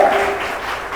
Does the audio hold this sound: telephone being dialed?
no